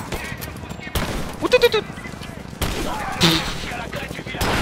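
A new weapon fires in the video game Rise of the Tomb Raider, with a few sharp bursts and a tight cluster of shots near the middle, loud over game ambience while a man exclaims excitedly.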